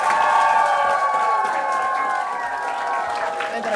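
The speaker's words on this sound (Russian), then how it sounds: "Ваши аплодисменты, друзья!" Audience at a Stavropol teachers' award ceremony cheering and clapping for a gymnasium teacher, a loud continuous crowd roar with tonal music or voices running steadily through it.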